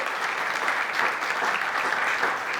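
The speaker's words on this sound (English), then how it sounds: "Let us give a warm round of applause." A warm, even round of applause rises at the inauguration of an Indo-Japan cultural center, many hands clapping steadily in a hall throughout.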